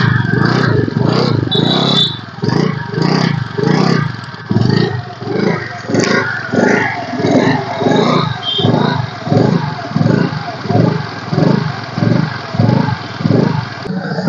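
2016 Honda Navi scooter with an Activa engine runs up close, its motor pulsing in a steady, repeating rhythm of loud throbs with faint mechanical clatter over the whole stretch.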